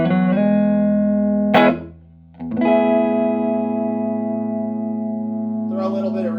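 Thinline Telecaster played through a Sound Salvage Wrecker 35 recycled tube guitar amplifier, sustained ringing chords with a brief muted gap, then another long chord and a final strummed flourish, loud and clean-toned.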